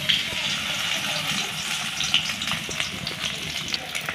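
Eggs fry one at a time in hot oil in a wok, making a continuous watery crackle and hiss at moderate loudness with small spattering pops and no voices.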